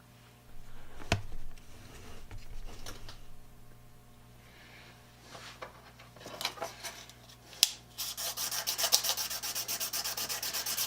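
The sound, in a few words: sharpening the small knicker of a rebate plane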